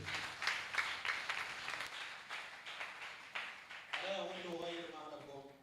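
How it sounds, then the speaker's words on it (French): A church congregation applauds for God with a soft, scattered patter of many hands. A voice then speaks over the fading clapping. "On acclame pour Dieu."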